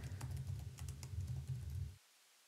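Keys clatter on a computer keyboard in quick, irregular bursts of close, soft typing for about two seconds, then stop into near silence.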